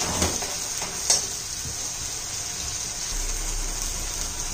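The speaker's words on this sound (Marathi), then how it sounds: "चांगलं तेल सुटेपर्यंत चांगलं परतून घेऊया त्याला." Spices sautéing and being stirred in oil in a pan for a moth bean curry make a steady, close hiss. A few sharp utensil scrapes stand out early on.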